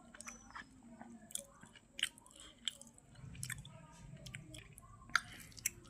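Eating pakhala, fermented watered rice, with sides such as greens, fried mushrooms and mixed fritters in a village setting: soft, wet chewing and squishy bites with occasional crunches and small clicks, quiet and close, with no talk.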